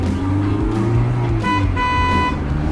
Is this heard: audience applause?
no